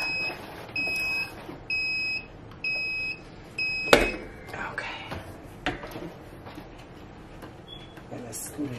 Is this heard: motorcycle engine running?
no